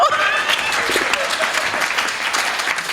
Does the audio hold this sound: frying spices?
no